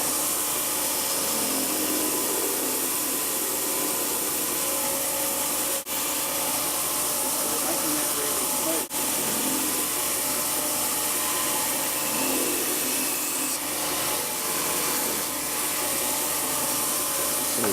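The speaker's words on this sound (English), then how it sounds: "We've got it rather roughly sanded to there" A wooden toy farm bike part is sanded in a workshop, with a steady, loud abrasive whoosh running continuously for nearly eighteen seconds and only two tiny breaks.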